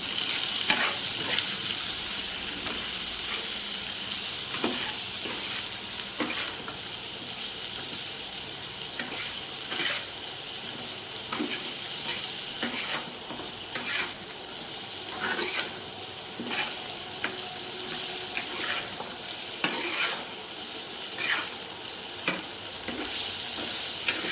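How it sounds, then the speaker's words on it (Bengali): Garam masala and vegetable masala sautéing in a pan, a steady hot sizzle broken by frequent scraping stirs of a spatula, close and continuous with no voices. "হালকা করে গরম মশলা, ভালো করে কষিয়ে নেব।"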